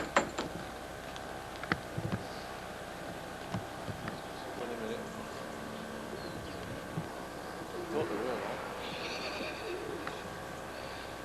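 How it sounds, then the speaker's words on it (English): English Roller pigeons released from a loft to fly, with soft cooing and faint wing flutters over a steady outdoor background, a few light knocks early on, and brief voices nearby. "Releasing his birds here now."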